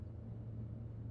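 Steady low road rumble and engine drone inside a moving car, heard close and continuous with no talk over it.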